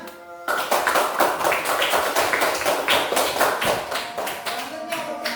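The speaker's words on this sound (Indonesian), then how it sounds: "Beri dulu tepuk tangan" Students in a classroom clap their hands together in a brisk, lively burst right after a teacher's voice breaks off, the clapping close and continuous for several seconds.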